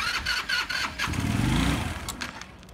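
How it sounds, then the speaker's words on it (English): A moped engine starts up mid-clip, cranking and catching into a low rising rumble that settles toward idle, heard fairly close against background noise. "Okay, sir, can you turn on your vehicle?"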